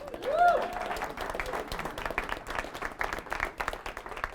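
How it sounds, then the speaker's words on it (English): Scattered clapping from a small crowd, fairly steady and moderate in loudness, with a brief voice or tone near the start. "Give yourselves a round of applause."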